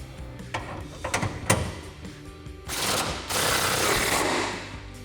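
A power impact tool runs down a 15mm bolt on the upper shock mount of a 2021-2023 Ford F-150 during a suspension lift install, first in short bursty rattles, then in a longer sustained whirring run, fairly close.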